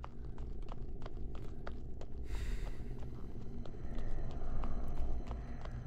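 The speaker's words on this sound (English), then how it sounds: "That cat is a little too loud for my liking." A cat purring in a video game, a steady low rumbling drone that runs continuously at moderate level beneath faint clicks and ambient game sounds.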